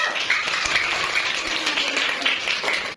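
Elementary school students clap together in a classroom, a dense, steady patter of small hands lasting about three seconds before stopping abruptly.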